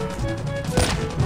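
A single sharp sniper rifle shot in the mobile game Call of Duty Mobile, cracking loudly over constant game background sound.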